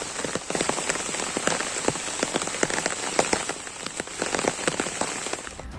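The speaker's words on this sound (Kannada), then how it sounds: "ಜಿಲ್ಲೆಯಾದ್ಯಂತ ನಿರಂತರವಾಗಿ ಮಳೆ ಸುರಿತಾ ಇದ್ದು" Heavy monsoon rain pours steadily across Udupi district, a dense, loud hiss of drops striking surfaces with constant patter and no voices.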